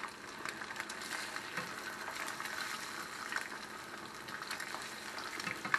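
Eggs and bacon fry in a crowded breakfast pan, giving a steady, fairly quiet sizzle with soft crackles and occasional pops throughout, no voices over it.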